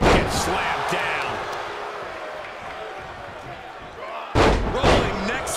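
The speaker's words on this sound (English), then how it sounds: "Get slammed down." At a live eight-man tag team wrestling match, a body slams onto the mat with a loud, sharp thud at the start and another heavy impact near the end, under crowd noise and ringside commentary.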